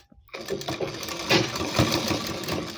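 A sewing machine runs in a fast, continuous whirring rattle as it stitches a nightie along a chalk line, close and steady after a brief quiet start.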